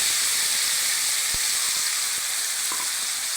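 A ground tomato, garlic and curry leaf paste hitting hot oil with popped mustard seeds, a loud continuous frying hiss with a few faint clicks of utensils.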